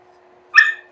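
A small dog lying in someone's lap lets out a single brief, high whimper, close by, in an otherwise quiet room.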